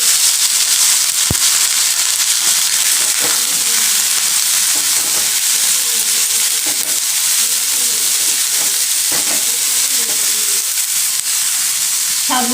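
Poppy seeds and dry red chillies crackle in hot oil, then vegetables are tossed in, giving a loud, steady frying hiss with scattered pops and stirring scrapes throughout.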